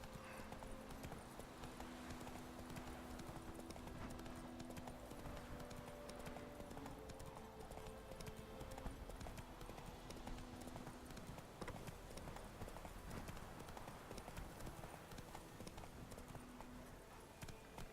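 In The Witcher III, the horse Roach gallops with a constant rapid clip-clop of hooves over game ambience, faint and steady throughout with no break in the rhythm.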